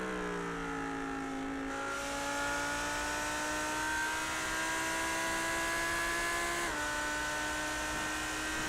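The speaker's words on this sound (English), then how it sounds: "We look back, listening to the pops and bangs with the number 4 car of Jeremy De Bover behind us." Lamborghini Huracan race car engine in the iRacing game at Spa Francorchamps, a steady loud drone with pitch climbing through gears, a clear upshift drop near two seconds and another shift later, sustained throughout without talk.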